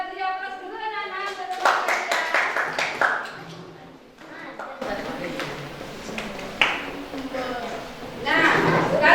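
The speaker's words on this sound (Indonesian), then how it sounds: "Ya, kita beri aplaus dulu anak-anak." Children clap for a classmate group in a classroom, a sustained patter of many small hands joined by bursts of chatter and a teacher's voice.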